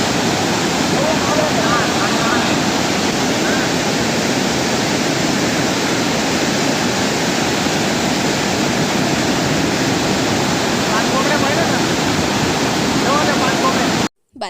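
The Panjhra river, swollen after heavy rain, rushes past in a loud, unbroken roar of flowing water that fills nearly fifteen seconds before cutting off abruptly.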